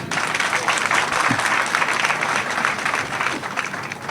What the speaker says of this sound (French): il mérite des applaudissements plus nourris.